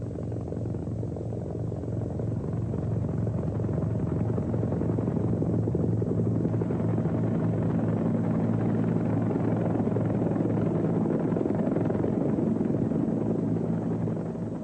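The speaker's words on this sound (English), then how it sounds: "As soon as the helicopter arrived, Rick was loaded on board for the 20-minute" A helicopter's steady, heavy rotor drone fills the whole stretch, loud and close, with a deep rhythmic thrum and wind-like roar.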